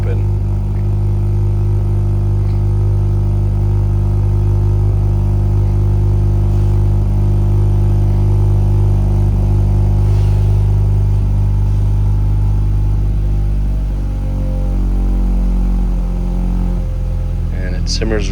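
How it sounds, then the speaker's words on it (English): A 2023+ Acura Integra Type S on a cold start, fitted with an Invidia Q300 exhaust, catted downpipe, 3-inch front pipe and 3-inch piping with the valve open, holds a loud, steady, deep elevated idle drone, with talk over it. "our V6 catted downpipe, Invidia 3-inch front pipe, and 3-inch exhaust, valve currently open"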